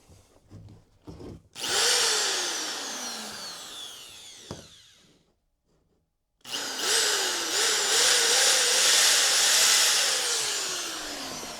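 A 120V electric drill fed 208V spins up to a loud, high whine, winds down into silence, then surges again with wavering pitch, running close with no talking.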